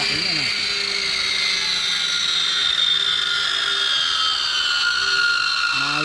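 A large imported circular saw for cutting logs, running steadily in a test: a continuous whining drone with a high tonal edge, close and fairly loud, with a spoken voice over it.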